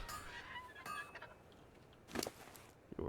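A bird creature in the video game Ark gives soft, chicken-like clucks: a few short, scattered calls that sound faint and somewhat distant, with no voices.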